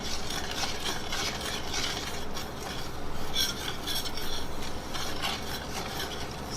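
A spoon steadily scrapes and stirs the browning base for tomato gravy in a pan, a continuous close rasping sound with no pauses and no voices.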